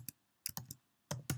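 Typing on a computer keyboard produces five or six quick, faint key clicks in two short clusters, close by and quiet, with no talking.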